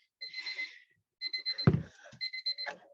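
A workout interval timer alarm goes off with a loud, repeating high electronic beep in quick bursts, pausing briefly between rounds, with a short thump partway through.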